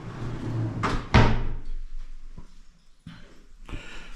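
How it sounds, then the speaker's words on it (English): Push-to-open drawers in a bathroom of a converted barn cottage slide out with a few sharp clacks and thumps, close by, followed by quieter sliding rumbles and small knocks. "these drawers, you just press them and out they come"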